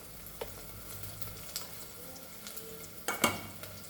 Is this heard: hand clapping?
no